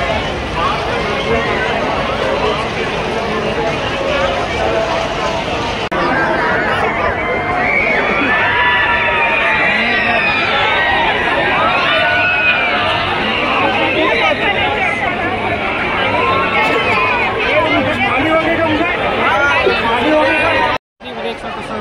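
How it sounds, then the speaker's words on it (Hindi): Crowd chatter fills the Ranitarai Mandai village fair in Patan, Durg district. A loud, dense babble of many voices surrounds the listener continuously, with a faint background hum and a brief dropout near the end. "कितना भीड़ है"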